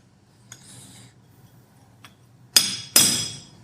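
A blacksmith hammers a small forged axe pendant straight on a drift: two sharp, bright metallic strikes near the end, preceded by a couple of faint light taps, close and otherwise quiet.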